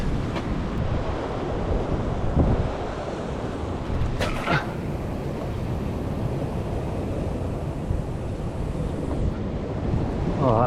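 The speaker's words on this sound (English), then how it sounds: "Oh, that wind's a nightmare." Strong wind buffets the microphone on a sea beach while surf rolls in, producing a constant heavy roar with a few sharper gusts.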